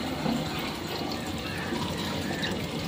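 Water running and splashing steadily from a tap while a spot is washed with Surf detergent, a continuous trickling wash with no talk.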